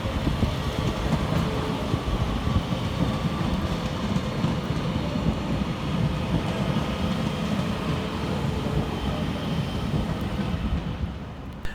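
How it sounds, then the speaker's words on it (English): A Northern class 331 electric train, unit 331012, on the 16:19 Manchester Piccadilly to Crewe service, rumbles loudly and continuously into Stockport railway station, its steady roar filling the whole stretch without talk. "Next arriving into the station will be 331012, working the 1619 Northern service from Manchester Piccadilly through to Crewe."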